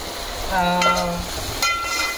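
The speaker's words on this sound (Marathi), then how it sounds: "आणि हा थोडासा तांबूस रंगचा येईपर्यंत आपल्याला परतवून घ्यायचा आहे." Onions sizzle in hot oil as they are stirred and sautéed in a pan for a tempering, a close steady frying hiss broken by scraping strokes of the spoon, with a faint tone running underneath.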